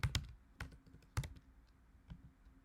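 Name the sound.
typing a query on a computer keyboard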